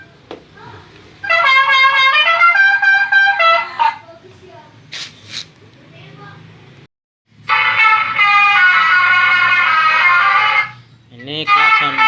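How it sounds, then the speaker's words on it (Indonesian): An electronic Toa telolet vehicle horn blares two loud, close melodic tone sequences with a quiet gap between them; brief faint sounds fill the pause and a short bit follows at the end. "Ini klakson."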